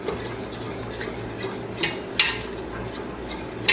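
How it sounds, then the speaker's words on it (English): A spoon stirs pectin crystals into orange juice concentrate, giving soft swishes with a few sharp clinks against the pot. The sound is close and fairly quiet, and nobody speaks. "stir it in just with the juice"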